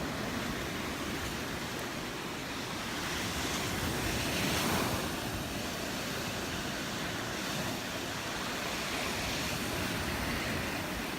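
Surf rolls onto the shore at Crystal Beach in Destin, Florida, a continuous soft wash of breaking waves with gusts of wind buffeting the microphone, swelling slightly midway.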